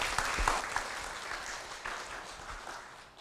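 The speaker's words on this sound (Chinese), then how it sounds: "让我们用最热烈的掌声来欢迎第一位分享者许静师姐" A warm round of applause from an audience welcoming the first speaker at a Tzu Chi environmental-volunteer sharing session, with dense, continuous clapping that slowly fades over about three seconds.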